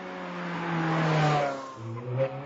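A 2008 Ferrari 430 Scuderia's 4.3-litre V8 revs up and eases off in a smooth rising-then-falling sweep, heard at moderate distance without talk.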